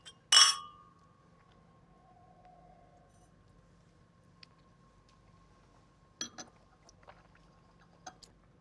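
Wine glasses clink once in a toast over a salmon dinner, a bright ringing strike that decays, followed later by a few faint taps and light clinks.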